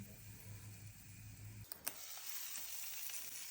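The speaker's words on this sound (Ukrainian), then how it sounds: "вже смажать оладки" Fluffy pancakes (oladky) sizzling in a frying pan, a steady broadband hiss with a couple of sharp pops, preceded by a low hum for the first moment.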